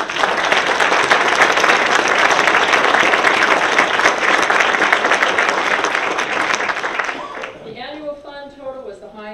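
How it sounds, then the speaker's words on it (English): Sustained audience applause at a college state-of-the-address event, loud and dense for about seven seconds before fading as a speaker resumes talking. "I think we should give them some applause."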